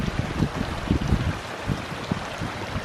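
Small side creek running down a trail eroded by horses and hikers, a soft continuous trickle and gurgle with light splashy pulses, fairly quiet and close, no voices.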